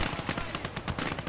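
Rapid cracks of gunfire and explosive bursts from the Battlefield video game, a dense rattling volley of sharp repeated shots at moderate loudness that fills a brief moment with no break.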